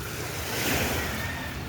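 Sea waves surge and crash against a shore at sunset, a broad rushing wash that swells and fades over a second or two, close and moderately loud.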